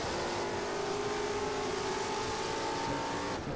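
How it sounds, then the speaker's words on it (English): A race car's engine holds a steady, loud drone alongside in the rFactor racing game. The continuous motor tone carries on through the whole stretch without talk. "I can hear a car next to me."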